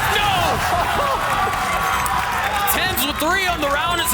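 A crowd at a Valorant esports match roars and cheers continuously in a dense, loud wash, with excited shouts rising over it.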